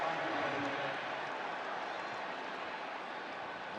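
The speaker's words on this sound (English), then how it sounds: "That crowd noise will affect this offense." Stadium crowd at a college football game, Texas A&M versus Mississippi State, roars as a steady loud wash of distant massed voices, sustained throughout without breaks.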